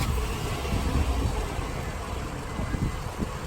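A car engine idles with its catalytic converter removed, a steady low rumble running evenly throughout with a little wind noise on top and no talking.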